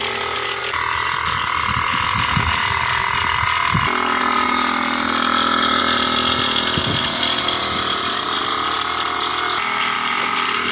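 A Mahindra Arjun 605 tractor being washed, with a loud steady hiss of water spraying over a continuous pump or engine drone, close by throughout with no clear speech.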